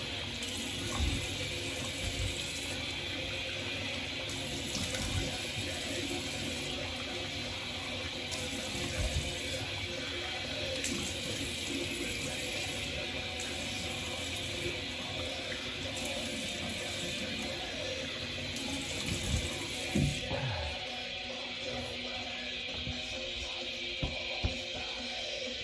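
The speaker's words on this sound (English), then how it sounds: "I'm gonna rinse off my face" Tap water runs steadily from a bathroom faucet as a face is rinsed after a straight razor shave, a continuous close splashing wash with small bursts and clinks, no talking.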